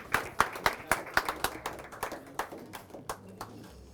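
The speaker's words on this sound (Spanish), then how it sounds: "Un aplauso para María, por favor" Sparse applause from a small audience at a book presentation for a poetry collection, honoring María: about a dozen distinct, fairly sharp claps in a loose rhythm that thins out and fades, with quiet room murmur underneath.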